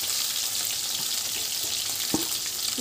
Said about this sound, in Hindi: फिश अच्छे से फ्राई हो चुका है